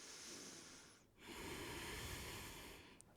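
Slow, steady breathing during a yoga flow class: a long airy inhale or exhale, a brief pause, then another sustained breath, close and soft with no talking.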